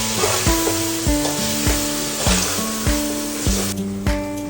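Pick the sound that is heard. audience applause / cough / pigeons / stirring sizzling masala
stirring sizzling masala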